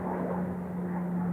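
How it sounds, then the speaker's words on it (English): A propeller airplane passes overhead, a steady low engine drone with a constant hum that holds evenly throughout, moderately loud and continuous with no talking. "That's a plane,"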